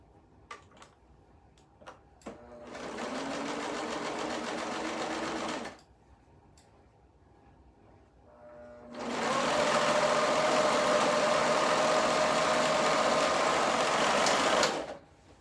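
A sewing machine stitches the top seams of a dress in two runs, a short burst and then a longer steady whirring stretch, close and loud, with small ticks and clicks from handling in between and no talking.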